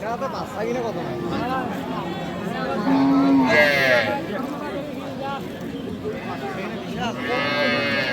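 Cattle at a rural cow market lowing now and then, with one clear drawn-out moo standing out amid the steady murmur of crowd talk and bustle.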